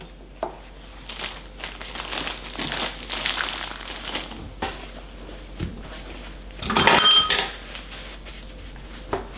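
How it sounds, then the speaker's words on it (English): Paper towel crinkles and rustles in short bursts while raw pork chops marinated in Guinness are patted dry in a kitchen, with clattering dish and utensil knocks and a louder crumpling burst near the end. "I need fresh paper towel because I want to continue drying"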